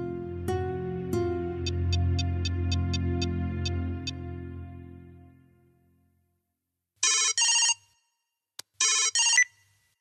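A phone ringtone plays a bright repeating melody, then fades out before two short bursts of electronic ringing sound in the quiet.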